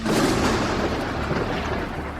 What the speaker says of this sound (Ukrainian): вони почули цей надзвичайно гучний грім